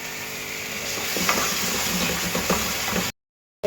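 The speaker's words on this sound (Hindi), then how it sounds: "अब मैं इसमें फ़िश फ्राई करूँगी" Fish frying in hot oil gives a steady, loud sizzle with crackling pops and some stirring noise, running continuously before cutting off abruptly near the end.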